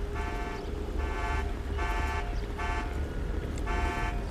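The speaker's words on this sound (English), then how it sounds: "allows the alarm to go off." A stolen car's alarm blares in GTA 5, a loud horn sounding in regular pulses about once every half second, with low engine and street rumble underneath.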